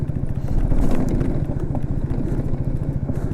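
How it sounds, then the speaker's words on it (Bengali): A motorbike picks its way over a rough, roadless high-mountain track near Hanle in Ladakh, its engine thudding in a steady low pulse under rattling and bumping, loud and close throughout. "সেই টায়ারের মার্কস দেখে দেখে আমাদের বাইক নিয়ে যেতে হচ্ছে।"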